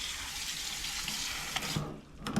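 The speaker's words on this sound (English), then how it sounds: "when you strain it, just add cold water to it like this" Cold tap water pours steadily over freshly strained chow mein noodles in a sink, a broad hissing splash with a couple of brief knocks near the end, close and fairly quiet.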